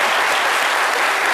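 A television studio audience on a French midday talk show claps loudly and steadily, a dense, uniform roar of applause with no speech over it.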